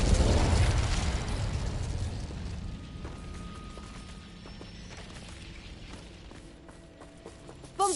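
A fire spell cast in Hogwarts Legacy bursts with a loud whooshing flare at the start, then fades into a lingering crackling rumble under game ambience, with a sharp pop near the end.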